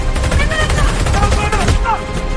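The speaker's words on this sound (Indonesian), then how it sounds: "Mereka menembak!" Bursts of gunfire in a Kamen Rider movie battle scene, rapid loud shots crackling continuously under shouting voices and dramatic background sound.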